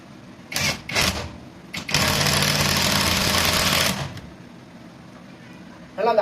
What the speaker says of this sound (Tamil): நல்லா அந்த ஹேமரிங் எஃபெக்ட் நல்லா வேலை செய்யுது.